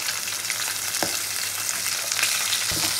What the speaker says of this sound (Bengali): এখন মাছগুলো কিন্তু ভালো করে এপিট ওপিট উল্টে ভেজে নেবো।